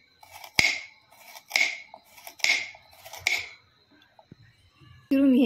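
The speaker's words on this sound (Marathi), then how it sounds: "आता आपण गाजर छान गोल गोल चिरून घेऊ" A knife slices washed, trimmed carrots into round pieces, about four crisp separate cuts spaced roughly a second apart, close and fairly quiet, ending with a brief different noise.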